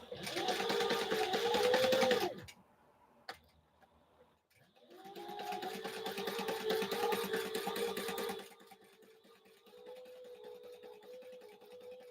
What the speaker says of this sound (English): this is the biggest thing that I've ever sewn